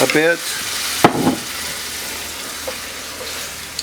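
Liquid poured into a hot pan of mushrooms for creamy pasta hits with a sharp sizzle, then settles into a steady frying hiss with a few scrapes, while a voice briefly talks at the start.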